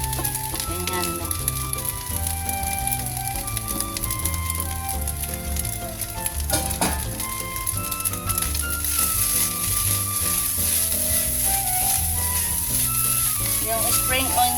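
Spinach leaves go into a hot pan of bacon fried rice and sizzle loudly and steadily, with stirring and scraping throughout and occasional faint speech.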